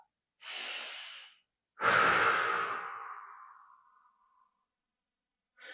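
Slow, deep breaths during a stretching exercise for an injury check-in: a soft inhale followed by a long, loud exhale that trails away, then the start of another breath, close and alone.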